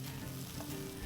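Green pea kachori stuffing, mixed with garam masala, amchur and a little sugar, roasts in a pan with a quiet, steady sizzle and no voices.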